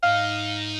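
A short synthesized beep with added high end and reverb, from a remake of a trap instrumental: one sustained bright tone starting sharply, holding steady for under a second, then cutting off with a faint reverb tail, alone.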